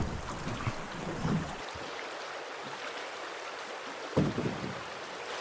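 An outboard motor on a boat runs steadily in shallow, gravelly river water, a constant wash of engine and water noise with a few louder splashes and knocks.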